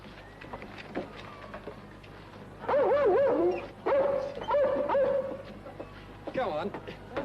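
A dog whimpers and yips in high, wavering whines with a few short bark-like bursts, close by, while people talk quietly in the indoor scene.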